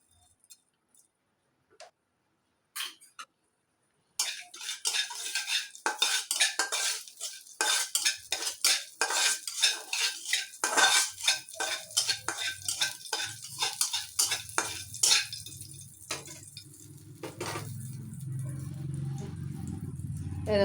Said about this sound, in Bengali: তাই আরেকটু সর্ষের তেল দিয়ে দিচ্ছি এর মধ্যে, বেশি দেবো না। আর কিছুটা কালো জিরে